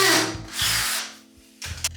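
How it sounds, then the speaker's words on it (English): A power drill with a masonry bit boring into a wall to fit a wall-mounted guitar hanger: a close, loud whirring grind in short bursts that winds down, stops, then starts again briefly. "Then the masonry drill bit."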